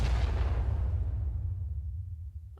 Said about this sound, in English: Generic blowing up,